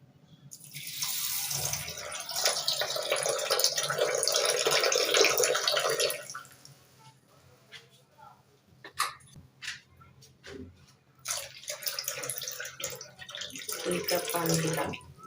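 Water pours into a bowl of sago pearls set to soak for making pitha, a steady splashing stream for several seconds, then a quieter pause and a second pour, with someone talking in between.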